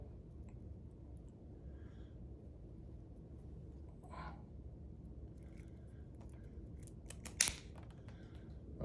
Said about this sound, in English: I'm also going to trim my weed guard flush with my hook